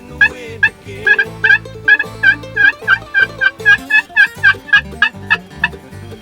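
Two wild turkeys gobbling and calling back and forth from either side, a steady series of loud, rhythmic calls alongside a repeated higher call sound, close by in the open.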